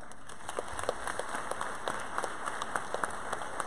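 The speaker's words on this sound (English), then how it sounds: "they deserve a round of applause." A fairly faint round of audience applause at a university Founders Day ceremony, soft steady clapping with scattered sharper claps over a constant hum, no speech on top.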